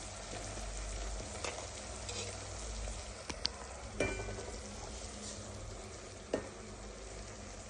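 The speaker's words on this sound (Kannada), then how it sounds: "ನೋಡಿ, ನಾನು ತಿರುಗಿಸ್ತಾ ಇದ್ದೀನಲ್ಲ, ಈ ತರ ತಿರುಗಿಸ್ತಾನೆ ಇರಿ." Ragi flour being stirred into onions frying in a pan, a steady close sizzle with occasional scrapes and taps of the spoon, no talking.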